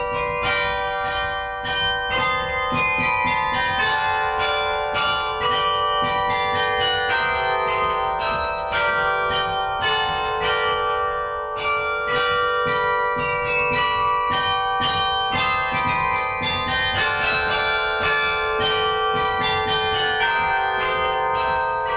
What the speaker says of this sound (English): A little bit from the Ash Grove,